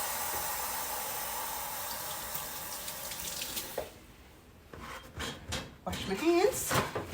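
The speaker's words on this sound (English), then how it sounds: "Wash my hands." A kitchen tap runs in a steady, close rush for hands being washed, then shuts off, followed by soft clatter and handling sounds.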